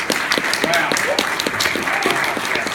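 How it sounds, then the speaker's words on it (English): Audience applause at a Retropalooza 2017 retro gaming convention, a dense steady wash of clapping under someone speaking over it. "Round of applause for that doc"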